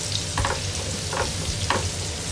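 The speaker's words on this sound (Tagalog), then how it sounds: "Medyo gusto ko this time itong ating bawang medyo mag-fried ng konti." Garlic frying in a pan, a steady close sizzle with a few stirring scrapes and clatters at intervals.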